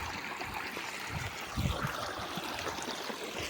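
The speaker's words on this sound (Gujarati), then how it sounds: "આપણે વોચમાંથી પાણી આવે છે" Water gushes from a pipe at a farm well, a steady close rushing and splashing flow with a brief stronger surge midway, no talking.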